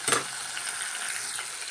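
Fish coated in chiroti rava and cornflour shallow-frying in oil, a soft steady sizzle that opens with a brief sharp burst of crackle, then settles into a quiet even hiss.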